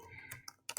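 Quiet keystrokes tapped on a computer keyboard while a word is typed: a few soft clicks, then a quick pair of sharper taps at the end, close and with no talk.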